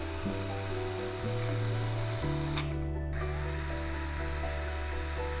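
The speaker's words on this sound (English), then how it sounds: "I start with drilling holes around the plastic containers." Steady whine of a small power drill boring holes in plastic containers, running continuously, its pitch stepping between speeds, with a brief pause in the middle.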